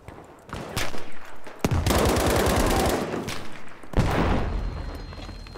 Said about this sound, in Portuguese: Os tiros estão vindo aí.